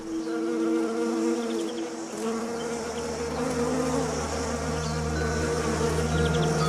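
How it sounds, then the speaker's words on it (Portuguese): Honeybees hum steadily around flowering fruit trees, a dense, continuous swarm drone heard close up for several seconds with no talk. "Eu forneço flores para as abelhas, milhões de flores."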